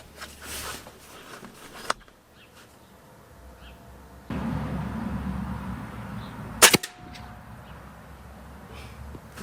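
An air rifle firing JSB diabolo 4.5 mm pellets at 30 metres outdoors: a couple of sharp, isolated snapping cracks stand out against steady background noise, with long quiet stretches between them.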